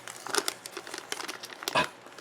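A plastic zip pouch from a 2013 vegetarian MRE is pulled open close up, giving a run of sharp crinkles and crackles with a louder tearing rustle near the end and no talking.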